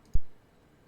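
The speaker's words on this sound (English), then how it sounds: "Stop with the clicking." A single sharp click from the Ni No Kuni 2 video game, short and loud, in near silence.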